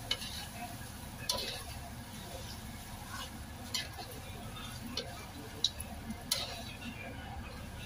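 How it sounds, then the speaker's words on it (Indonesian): Kwetiau noodles with carrots are stir-fried in a pan, with soft sizzling under steady stirring and scattered clicks and taps of the utensil against the pan. "Aduk hingga bumbunya merata."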